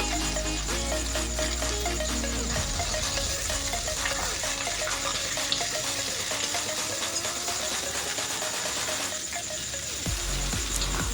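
Mixed vegetables with pumpkin stems and freshly added green chillies sizzling and frying steadily in a pan, a dense continuous crackle with some metallic scraping and clinking of utensils throughout.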